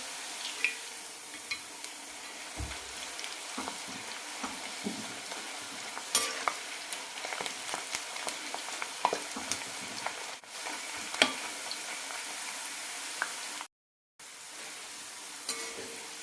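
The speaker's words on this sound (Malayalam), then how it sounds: "മീഡിയം ഫ്ലെയിമിലിട്ട് വറുത്തെടുക്കാം." Beetroot chips fry in oil over a medium flame, giving a steady soft sizzle with occasional stirring clatter, close and moderately quiet, with a brief dropout near the end.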